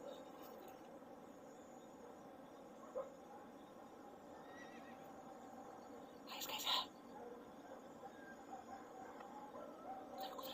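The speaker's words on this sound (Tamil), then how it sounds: "குதிரை குதிரை குதிரை குதிரை குதிரை சவுண்டு." A horse whinnies once in a short, bright burst partway through, set against a faint outdoor backdrop of chirping insects in a village, with a couple of soft knocks earlier.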